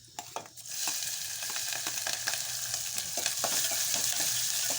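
Green chillies are dropped into hot oil on a low gas flame for a tempering. A soft start jumps into a close, crackling sizzle, with stirring and spattering running throughout.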